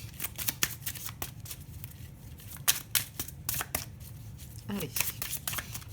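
An oracle of love card deck being shuffled, with a series of crisp, irregular riffling snaps and slaps up close, while someone speaks briefly over the shuffling.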